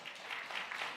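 A church congregation applauds two expectant mothers, a short soft burst of many hands clapping, faint and distant.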